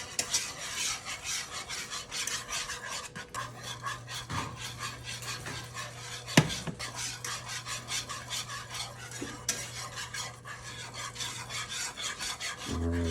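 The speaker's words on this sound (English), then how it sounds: "you gotta keep whisking it" Heavy whipping cream being whisked into a mac and cheese sauce, a steady rasping, scraping stir that runs continuously for several seconds with a few sharper knocks against the pan, close and alone without talk.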